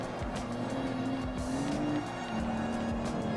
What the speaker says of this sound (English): Okay, why am I drifting in there?